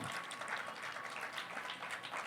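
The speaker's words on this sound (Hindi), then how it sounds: "जोरदार तालियां" Audience applause at a talk session, a continuous ripple of many hands clapping, quite faint and distant, with no speech over it.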